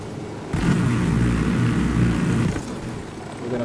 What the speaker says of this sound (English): We have a chopper now that shoots.